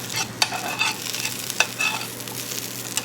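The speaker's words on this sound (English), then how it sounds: "So, down nicely, my onions and my garlic," Onions and garlic frying in a pan, with a near, continuous sizzle broken by sharp scraping clicks of a utensil stirring them every half second or so.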